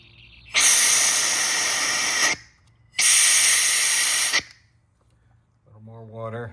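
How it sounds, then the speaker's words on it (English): A compressed air venturi vacuum tool drawing vacuum on a Mercedes GLC43 M276 intercooler system gives two loud, steady hissing bursts of nearly two seconds each, then falls quiet before a voice briefly speaks. "Give it a little more vacuum."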